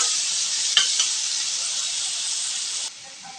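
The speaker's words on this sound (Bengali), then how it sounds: "এই মশলা পেস্টগুলো আমি দিয়ে ভালোভাবে এগুলো কষাই দেব" Spice paste and fried potatoes sizzling loudly in a pan for a meat curry, a continuous hiss with a couple of stirring knocks early on before the sizzle drops off abruptly near the end.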